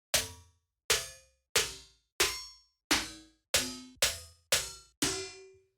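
A quick series of nine bright, clanging electronic snare hits plays alone, each one slightly different in metallic tone and decaying fast.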